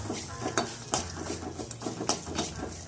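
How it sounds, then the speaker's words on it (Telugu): Peanuts frying in a small amount of butter in a pan give a steady, close sizzle, broken by repeated scrapes and light clinks of a utensil stirring them, with no talking. "పల్లీలు బాగా ఫ్రై అవ్వాలి బటర్లోనే."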